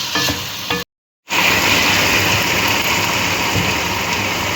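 Chicken and vegetables, cabbage among them, stir-fried in a pan for chicken macaroni, giving a loud steady sizzle with stirring scrapes, cut by a brief gap of silence before the frying noise resumes alone.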